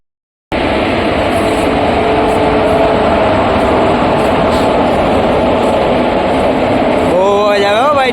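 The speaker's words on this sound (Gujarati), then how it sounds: "ડીઝલ એન્જિન નો બહુ અવાજ આવે ને" A diesel locomotive engine on a passing train rumbles steadily and loudly at close range for several seconds, with a rising whine near the end.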